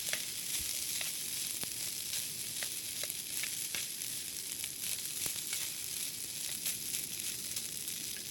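Food sizzles steadily in a hot frying pan while being stirred, with scattered crackles and scraping ticks over a constant hiss.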